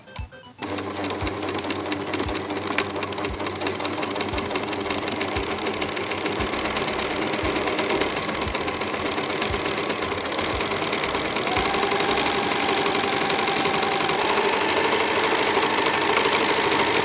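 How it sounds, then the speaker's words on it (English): A sewing machine runs a zigzag stitch through denim jeans, its steady rapid mechanical chatter continuous and close for the whole stretch after a short quiet start. "Then we sew it together with the zigzag stitch."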